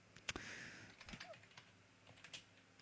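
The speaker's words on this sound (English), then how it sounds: "I'm just going to type in an artist here." Keys tapped on a computer keyboard in a short irregular run of quiet clicks, with a few sharper strokes standing out.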